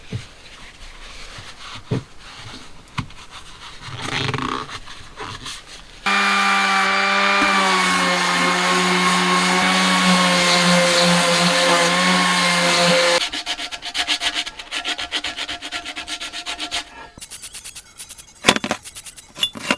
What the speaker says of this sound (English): let's give it a sand